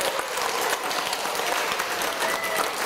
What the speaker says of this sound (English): let's give this class a round of applause